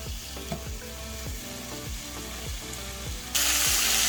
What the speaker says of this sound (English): I'm going to chop up them in half and I'm going to grill them as well.